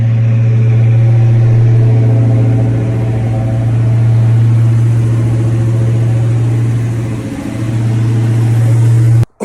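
An Acura RSX engine idles while warming up in the cold, a loud steady low hum with a fixed droning tone and slight wavering, close by, cutting off abruptly at the end.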